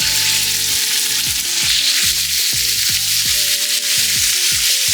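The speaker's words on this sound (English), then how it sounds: "put in the rest of our oil, and now we will throw in our meat" Beef hits hot oil in a Nuwave Mosaic induction wok heated toward 450 degrees, a loud, steady sizzle filling the whole stretch, with a constant electronic hum from the induction base running underneath.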